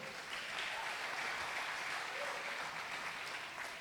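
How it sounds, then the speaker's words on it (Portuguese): A church congregation applauding two young men, a continuous, evenly sustained round of many hands clapping in a large room, fairly soft and without voices on top. "Vamos aplaudir esses dois moços, amém?"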